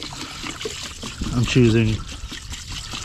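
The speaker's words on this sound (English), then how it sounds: "to just pour it right in here." Trailer strap deicer solution trickles as it is poured into a container, a thin liquid stream heard under someone talking close to the microphone.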